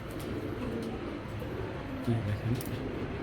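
Soft, low cooing of a young male pigeon close by, repeated in short murmuring phrases beneath a person's speech.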